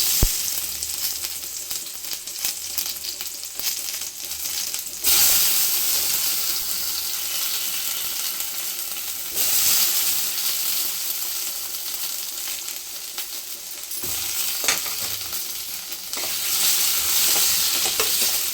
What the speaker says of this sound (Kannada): ಟೊಮೆಟೊನ ಸ್ವಲ್ಪ ಬಾಡಿಸ್ಕೋಬೇಕು.